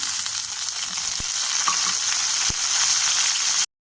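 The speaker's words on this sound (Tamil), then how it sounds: "எண்ணெய் சூடானதும் கருவேப்பிலை போட்டுக்கலாம்" Curry leaves dropped into hot oil crackle in a dense, steady sizzle with a couple of sharp pops, close and fairly loud, then cut off abruptly to silence near the end.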